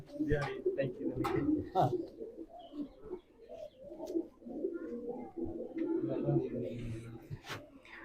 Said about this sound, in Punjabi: ਬਾਈ ਕਬੂਤਰ ਆਇਆ